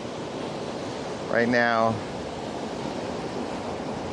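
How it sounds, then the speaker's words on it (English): Ocean surf rolls at Summerhaven Beach under a high tide after a full moon, a steady broad wash of waves with a brief spoken word over it. "We just had a full moon, and so the ocean is pretty high."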